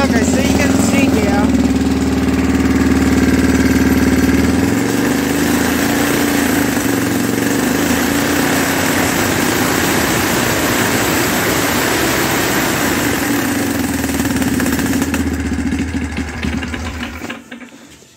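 A go-kart engine fitted with a torque converter runs steadily on a jacked-up kart, its loud droning hum holding close and constant before cutting off near the end.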